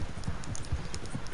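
A horse's hooves clip-clop in a steady rhythm on the ground in Red Dead Redemption 2, close and moderately loud with no talk over them.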